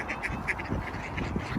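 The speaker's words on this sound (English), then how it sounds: "The ducks grumble to eat." Ducks being fed give a brief burst of nasal quacks, several rapid calls close together over a steady background of rustling.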